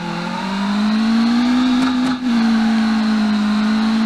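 A 90s supercar in Automation roars at full throttle, a loud, close, sustained engine tone rising steadily in pitch with a brief dip around a gear change before pulling on.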